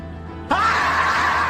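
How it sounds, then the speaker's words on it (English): A person lets out a sudden loud, sustained scream with a rising then steady pitch, bursting in after half a second of near silence and holding strong to the end. "I'll show you how I can scream in French"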